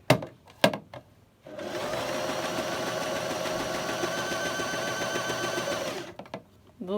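An unthreaded Butterfly JH8190S domestic sewing machine whirs steadily for several seconds, a loud, even mechanical hum with a rapid needle rhythm, preceded and followed by a few sharp clicks and knocks.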